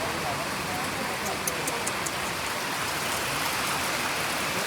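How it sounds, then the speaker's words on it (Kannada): Heavy rain pouring down outdoors, a dense, loud, unbroken hiss and patter filling the whole stretch at close range, with a few faint sounds rising above it. "ಇಲ್ಲಿ ನೋಡಿದ್ರೆ ಫುಲ್ಲು ಮಳೆ"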